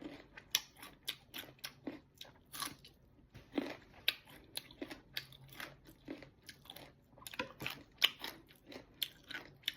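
Crunchy bites and chewing of green mango eaten with bagoong, close and distinct, a steady series of crisp crunches with short pauses and no talking.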